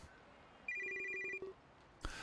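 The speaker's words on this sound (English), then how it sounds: "My phone vibrates, and I go look at it." A mobile phone goes off with a short, bright buzzing alert of repeated pulses lasting under a second, close and fairly quiet in a hushed room, with a brief rustle afterward.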